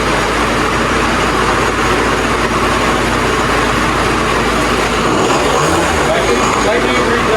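A 2005 Yamaha Zuma scooter fitted with a cheap big bore kit idles loudly and close, a constant rough low drone that barely varies.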